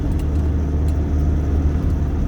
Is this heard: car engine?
yes